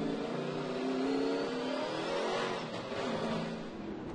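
Race cars on an oval racetrack roar past in a dense, continuous wash of engine noise, revving and droning with shifting pitch, loud and without talk.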